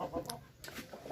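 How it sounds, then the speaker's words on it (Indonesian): Bangkok-breed chickens cluck at a small backyard poultry farm, giving several short, fairly close calls with a brief higher squawk, over low background noise. "di sini mayoritas ayam peliharaannya Bang Jopan ini adalah jenis Bangkok."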